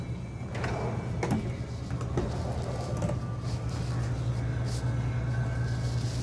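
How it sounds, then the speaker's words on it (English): Several large storage drawers in a 2023 Newmar Super Star 4059 motorhome slide open one after another, giving soft scattered knocks and sliding rasps over a steady low hum. "Two more big drawers here, and then I'll go ahead and open these really quick for you."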